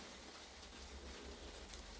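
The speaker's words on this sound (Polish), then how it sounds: "Posłuchaj też tego padającego deszczu, tej deszczowej muzyki" Soft, steady rain patters on a greenhouse where tomato plants grow, an even, faint hiss with no voices over it.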